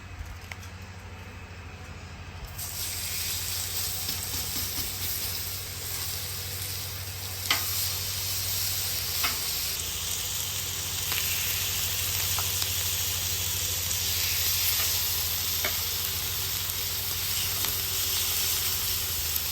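Steaks sear on a hot griddle with a loud, dense, continuous sizzle that swells as the meat goes down and then holds steady, with a few faint clicks.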